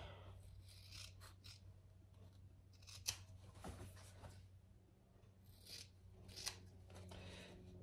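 Scissors trimming the fabric corners of a small tote bag, a series of quiet close snips and rustling fabric with a couple of sharper cuts.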